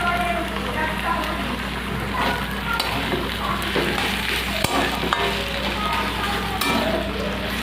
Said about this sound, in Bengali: শাকটা আমার হয়ে এসেছে, এবার আমি চিংড়ি মাছগুলো দিয়ে দেবো।